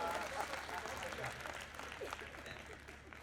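Audience applause at a Hindi comedic poetry stage show, a steady dense clapping that fills the whole clip at moderate level, with a voice faintly under it.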